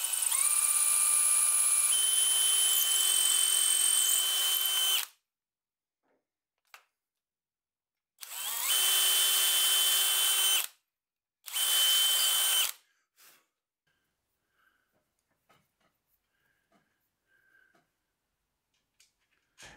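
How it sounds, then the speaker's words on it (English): A power drill whines steadily for several seconds boring a hole in a wooden block, stops, then runs in two shorter bursts, followed by a few faint clicks and quiet. "I'm going to start drilling that manually"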